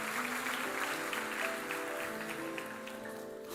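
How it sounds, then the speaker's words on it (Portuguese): A church congregation applauds during a worship service, a steady, dense wash of clapping that holds for several seconds over sustained musical tones in the background. "Você pode aplaudir esse Deus que cuida de você"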